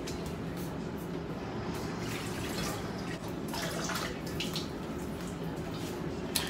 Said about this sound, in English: I'm going to just put some water in this pot.